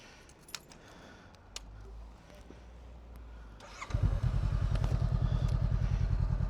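A Honda Africa Twin motorcycle engine starts after a few seconds of light clicks and handling noise, then settles into a loud, steady, close-up rumbling idle with even pulses.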